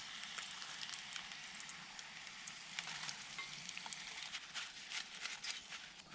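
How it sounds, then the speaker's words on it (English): Steak and chips fry in a pan over an open campfire, giving a continuous close sizzle with soft crackling pops throughout and no voices. "Cooking steak and chips,"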